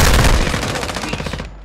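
Rapid automatic gunfire from the video game Call of Duty: Modern Warfare II rattles out in a loud, close burst of quick repeated shots that cuts off abruptly.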